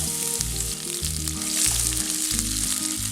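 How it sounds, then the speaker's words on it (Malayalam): Ginger, garlic and green chillies sauté in ghee with cumin seeds, giving a loud, close, steady sizzle, with a repeating low musical background tone underneath. "ഇതൊന്ന് വഴറ്റിയെടുക്കണം."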